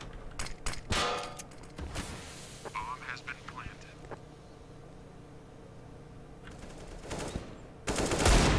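Rapid bursts of rifle and pistol fire from CS:GO on the Mirage map crackle in clustered volleys, then fade into a quieter stretch before a final loud burst at the end.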